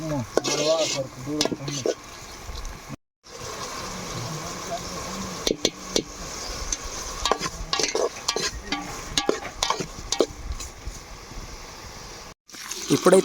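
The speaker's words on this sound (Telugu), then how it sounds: "మేము కట్ చేసుకున్న ఆకులను అయితే నీట్గా కడిగేస్తున్నాము" Cut wild leaves for a village leaf curry are washed in water by hand, making steady rustling and splashing noises up close with brief pauses, while a person talks over it.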